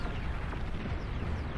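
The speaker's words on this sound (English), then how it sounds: "Another anti-nuke fired off." Anti-nuke missiles launching and detonating in the strategy game Beyond All Reason, a dense continuous roar of rumbling explosions with no gaps, loud and steady throughout.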